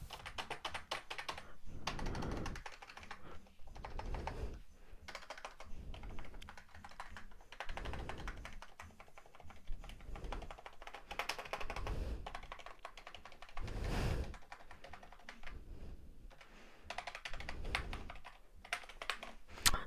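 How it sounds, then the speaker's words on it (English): Someone types on a Logitech G213 Prodigy keyboard in quiet, continuous bursts of soft key taps and thunks, close but faint, with no talking. "It's a Logitech G 213 Prodigy keyboard, and I've customized the escape key."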